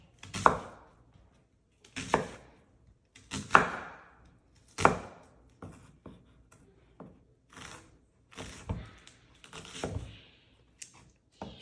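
Knife chopping red onions into small chunks on a cutting board, a series of sharp, distinct board taps in an irregular rhythm, close and fairly quiet with no talking.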